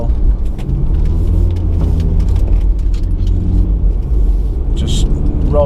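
A car cornering along winding country roads, its engine a steady, close, loud rumble throughout, with a brief higher whine near the end and some voice faintly underneath.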